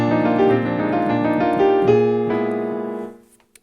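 A bright grand piano plays layered chords that ring and slowly fade out, a short soft tap at the end, no talking. It is the Pop Grand sample on a digital piano.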